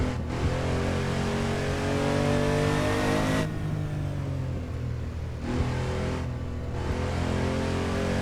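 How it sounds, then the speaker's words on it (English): A Porsche 911 993 engine drones steadily while driving on a high-speed road in a racing game, loud and continuous with shifting pitch as it revs and eases between gears. "This car is pounding these roads pretty well."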